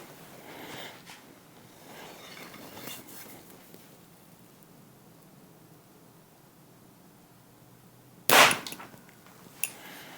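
Compound bow shot through paper for paper tuning, a single sharp snap and thwack near the end, close and loud against quiet room hiss.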